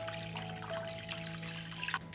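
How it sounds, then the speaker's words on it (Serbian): Water poured into a cooking pot holding glass jars set on a cloth, making a steady, close trickling stream under a low hum, with a brief splashy rise near the end. "Sipat ću vodu do visine poklopca."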